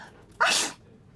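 A character in a mobile story murder-mystery game gives a single short, sharp sneeze, loud and close, after a brief breathy intake.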